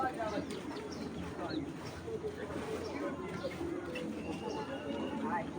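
Pigeons in a fancy pigeon collection in Bangladesh cooing softly and repeatedly, with some chirps mixed in, beneath ongoing talk from a man nearby.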